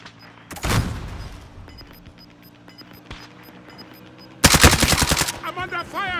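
Gunfire rings out in the Warzone video game on Rebirth Island. A short, sharp burst comes early, and a louder, sustained volley follows near the end, with quieter game ambience in between.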